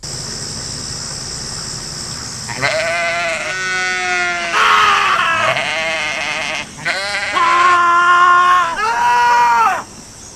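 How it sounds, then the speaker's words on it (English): A goat screaming sound effect plays at a hacker conference talk: harsh, loud bleating screams in several long bursts over a steady high background hiss. "This is really an exercise on how many screaming goats will you guys tolerate."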